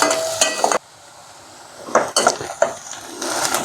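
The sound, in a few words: onions frying in a pan with green chillies and curry leaves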